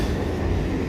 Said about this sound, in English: the train, the subway train underneath.